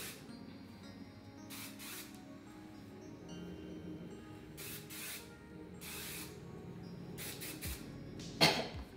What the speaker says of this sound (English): I usually spray this in sections